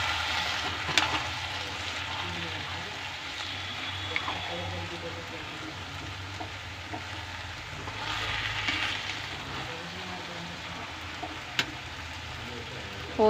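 Turmeric, red chilli paste and mashed aubergine being stirred together in a frying pan for baingan bharta, with a soft, continuous sizzle and occasional light spoon clinks and scrapes; a voice talks faintly in the background.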